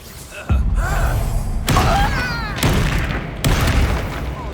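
Blasting spell explosions in the video game Hogwarts Legacy, set in a mine: four heavy booming blasts spaced about a second apart, each with a rumbling, crackling tail of debris.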